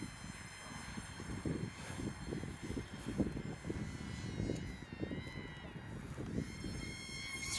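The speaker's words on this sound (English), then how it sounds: "It's flying in some good winds right now with the gyro." Small, cheap, lightweight RC airplane with a gyro flying in gusty wind: a thin, high-pitched electric motor whine wavers in pitch over steady wind buffeting, heard at moderate distance and fairly faint.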